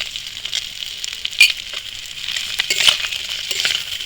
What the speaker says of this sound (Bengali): পেঁয়াজটা একটু ভালো ভালো ভাজা হচ্ছে, একটা লাল লাল ভাজা হয়ে গেছে